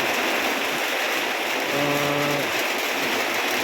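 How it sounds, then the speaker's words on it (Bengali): Heavy rain after a long dry spell, a dense steady roar of falling water close by, with a brief low hum in the middle, no voices. "আল্লাহর রহমত, অনেকদিন পর বৃষ্টি হলো আমাদের এই রোদ খরার বৃষ্টির মধ্যে।"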